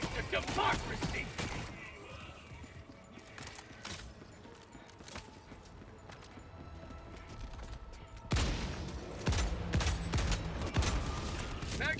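Gunfire from the video game Helldivers 2, rapid repeated shots in bursts with a busy mechanical layer, moderately loud, pausing briefly and then resuming more strongly, mixed with other game sounds.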